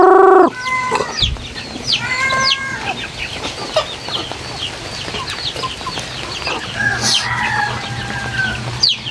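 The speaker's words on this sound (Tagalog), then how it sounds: "Mga gala yung ating manok." Native free-range chickens roam outdoors, clucking and calling in short repeated bursts. A rooster crows loudly nearby while softer hen chatter continues steadily in the background.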